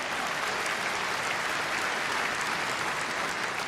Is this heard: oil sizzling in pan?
no